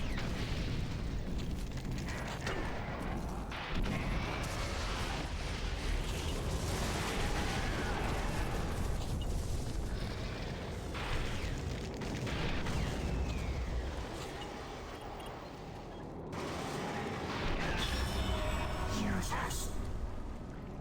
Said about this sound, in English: it's just easier to use a rocket launcher on this guy